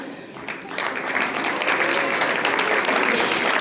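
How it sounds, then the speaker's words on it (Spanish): An audience at a gathering of entrepreneurs in Tijuana breaks into sustained, dense applause that swells after the first moment and holds steady and fairly loud throughout. "Un aplauso."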